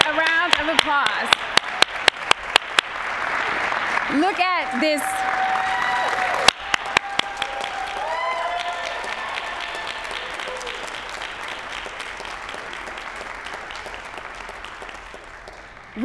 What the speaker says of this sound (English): And can we give them a round of applause?